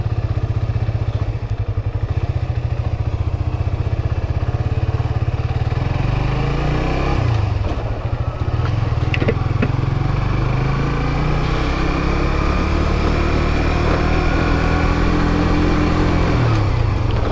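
The engine of a new Yamaha motorcycle, successor to the Byson, runs throughout a test ride, a loud continuous rumble that rises and falls as it accelerates and shifts, close to the microphone with wind noise and no speech.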